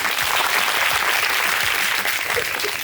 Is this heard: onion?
no